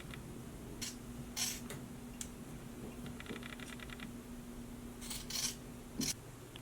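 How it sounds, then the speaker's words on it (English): Sharp fabric scissors trimming the seam allowance along a t-shirt neckband, making quiet crisp snips in scattered clusters, with a soft rapid ticking run partway through, all close by over a steady low room hum with no voices. "So trim away that seam allowance."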